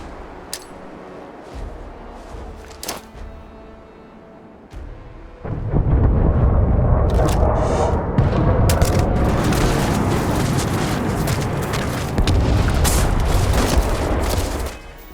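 Grenade explosions in the modded video game Starfield, with scattered booms early on, then a heavy rumbling blast and a long, dense stretch of loud explosive roar and crackling bursts.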